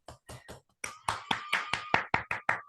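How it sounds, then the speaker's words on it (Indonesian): Students applaud in a classroom with a quick run of sharp, distinct hand claps, sparse at first and then steady and rhythmic, close and fairly loud. "tepuk tangan dulu dong untuk kalian semua"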